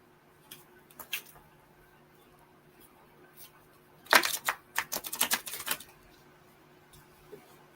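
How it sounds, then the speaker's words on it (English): Stiff new tarot cards are overhand shuffled close by, starting with a few faint soft riffles, then a dense burst of quick papery slaps and flicks in the middle, fading to quiet handling afterward. "So I do a lot of overhand shuffling."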